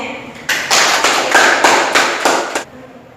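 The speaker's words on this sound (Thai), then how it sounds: "ขอเสียงปรบมือให้หมู่แน่" Students in a classroom in Vientiane, Laos clapping to welcome new classmates, a short burst of close applause of about two seconds that stops abruptly.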